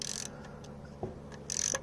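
Ratchet on an 11mm socket slackening a bolt on a Citroen Saxo gearbox during drive shaft work, giving short faint mechanical clicks in a quiet space.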